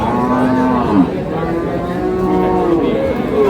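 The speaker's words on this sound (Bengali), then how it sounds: "গরুগুলো সব এক জায়গায় রাখা হয়েছে" Cattle at a livestock market where dairy cows with calves are sold, mooing in loud, drawn-out lowing calls that overlap continuously, close by and filling the space.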